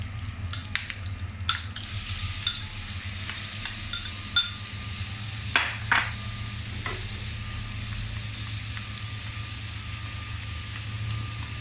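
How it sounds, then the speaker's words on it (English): Minced meat being stir fried in hot oil in a pan, a steady low sizzle with scattered scraping and clinking of a utensil, moderately close, no voices. "Next, we're gonna stir fry the minced meat."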